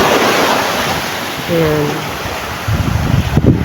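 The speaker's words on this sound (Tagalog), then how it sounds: "inabot na po ang aming bangka ng tubig. Medyo malaki po ang alon eh." Large ocean waves wash against and over a small wooden fishing boat at sea, a steady broad roar of surf and wind with heavier splashes near the end, while someone talks over it.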